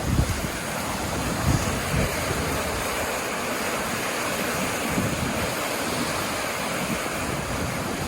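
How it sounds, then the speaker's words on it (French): Rushing water and surf churn steadily behind a moving sailboat on the open sea, mixed with heavy wind buffeting the microphone in low gusts. "Et les vagues nous rattrapent parfois"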